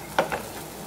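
Potatoes frying in a pan for a Tamil-style potato fry, giving a soft background sizzle with two brief stirring scrapes near the start.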